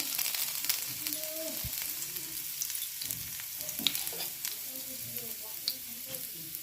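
Chopped garlic frying in hot oil for a chilli chicken, a soft continuous hiss and crackle close by with occasional pops and stirring knocks.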